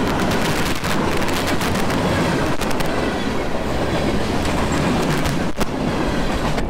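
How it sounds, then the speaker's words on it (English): A freight train rolls past near a track in Trenton, Georgia: a loud, continuous rumble and roar with clattering wheels and sharp metallic bangs, filling the whole stretch at close range without any voices. "This is a pretty good freight train."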